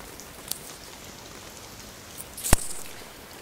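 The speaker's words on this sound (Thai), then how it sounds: "ฝนตกหนักมากนะคะระดับน้ำเพิ่มสูงขึ้นเรื่อยๆนะคะ" Heavy rain pours at a flood evacuation point in Ban Mo district, Saraburi, Thailand, a steady wash of drops with a couple of sharp close splashes or knocks over the continuous downpour.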